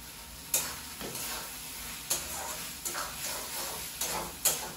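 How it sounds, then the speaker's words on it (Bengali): Spice masala for a paneer curry being stirred and sautéed in a pan, a steady soft sizzle broken by several sharp scraping clicks of the spatula, close and fairly quiet, with no talking. "মশলাটা কষে নিয়ে আমি পনিরটা দিয়ে দেবো"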